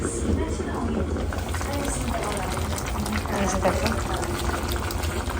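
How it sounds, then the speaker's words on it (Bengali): Chicken curry bubbles in a pot on the stove, a continuous close churn of boiling liquid throughout. "চিকেন ফুটছে"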